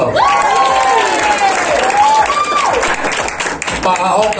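An audience at a public talk with a politician claps and cheers under a loud voice that keeps speaking over the applause for several seconds.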